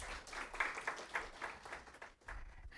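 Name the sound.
audience applause at workshop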